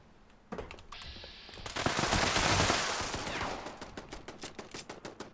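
An explosive two-shot 10mm auto pistol in Fallout 76 fires a rapid string of shots, each cracking into a burst of blasts that merge into a roaring rumble, then fade into scattered pops.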